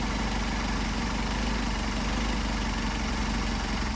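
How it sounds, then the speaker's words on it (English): An engine fitted with Solex 44PHH carburetors runs steadily at idle during tuning, a close and continuous low rumble with a slight unevenness as it begins to falter. "So hear the engine start to falter."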